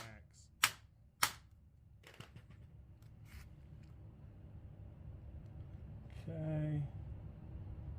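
A hammer driving a punch to stake a castle nut gives two sharp, close metallic strikes about half a second apart, then a few fainter taps, with a brief voice near the end.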